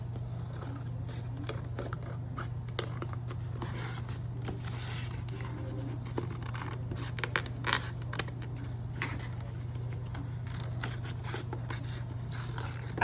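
Repeated small snipping and scraping sounds of scissors cutting through paper for a junk journal, over a steady low hum with no talking.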